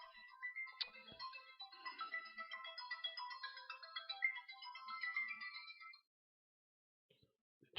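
Mobile phone ringtone playing a bright melodic tune for about six seconds, fairly quiet and alone, then cutting off into near silence.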